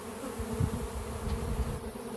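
A large honey bee swarm buzzes densely all around at close range, a constant droning hum of many wings filling the air without any voices.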